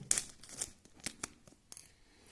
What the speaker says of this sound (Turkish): Şöyle üstündeki jelatini makas yardımıyla yırtıyorum.